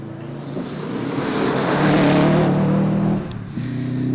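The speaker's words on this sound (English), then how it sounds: "there is the sound of a Subaru Impreza in the distance" Subaru Impreza WRX rally car, a 2-litre Class E entry on a stages rally, roars past at full throttle, engine note building loud then dipping briefly before pulling away again, with no talk.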